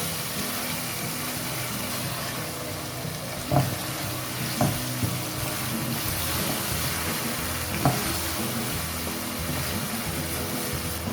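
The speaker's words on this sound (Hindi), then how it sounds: "और यहाँ पे मैं डालूँगी कड़ी लीव, कड़ी पत्ते।" Curry leaves sizzling in hot oil in a kadai while eggplant karahi cooks: a dense, continuous frying hiss with a few sharp spoon knocks against the pan, close up and steady, with no voices.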